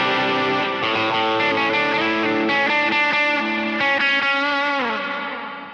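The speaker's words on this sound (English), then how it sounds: "This is kind of my stock tone right now, is the Morning Glory on with reverb and delay." An electric guitar played through a Morning Glory overdrive pedal with reverb and delay rings out in sustained, lightly driven chords and notes that bloom and trail off with echoing tails, loud and up close.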